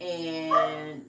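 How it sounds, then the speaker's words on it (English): A dog gives a single drawn-out, whining yelp or bark close by, with a voice speaking briefly. "that's my dog"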